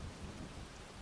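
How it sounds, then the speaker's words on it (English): Rain falls steadily through leaves and undergrowth with a low rumble of thunder beneath it. The downpour is a dense, continuous hiss without breaks, and there is no talking. "The rain splashes through the leaves and into the undergrowth"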